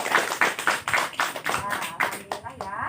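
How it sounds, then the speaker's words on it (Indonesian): Students in a class clap together for their classmates, a quick run of about a dozen sharp claps in a steady rhythm, fairly faint and close, with a few voices underneath. "Tepuk tangan untuk teman-teman kita yang sudah menjawab"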